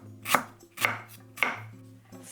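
A knife finely slices lemongrass on a cutting board: four crisp, close, evenly spaced cuts about half a second apart, with no talk.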